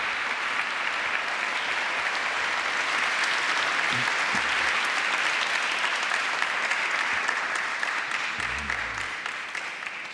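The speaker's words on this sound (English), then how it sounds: "let's give them another round of applause" Sustained, dense applause from a large audience at the launch of the North-South Commission on Development, filling the hall evenly for ten seconds and easing slightly at the end, with a few faint voices underneath.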